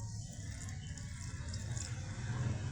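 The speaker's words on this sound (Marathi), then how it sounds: "गरजेनुसार पाणी ओतून घ्यायचं आहे" Water is poured into a pot of sour sorrel greens with peanuts and turmeric, making a brief, steady, soft splashing rush at close range with no voices.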